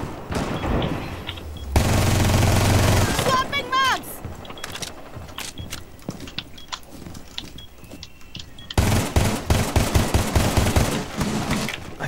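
A Vector submachine gun fires in Rainbow Six Siege in rapid, dense automatic bursts, loud and close, with players talking between the volleys.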